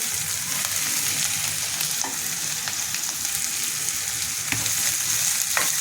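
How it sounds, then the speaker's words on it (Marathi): Chopped onion sautéing in a pan for a wild-vegetable dish, a steady close sizzle with occasional scrapes and stirs of a spatula, no talking. "कांदा परतून झाला की"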